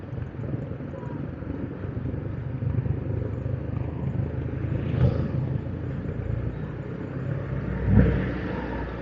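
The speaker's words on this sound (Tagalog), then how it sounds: "Traffic." Road traffic on a busy highway near a truck, a constant rumbling wash of car and motorcycle engines with swells of passing vehicles and a louder thump near the end.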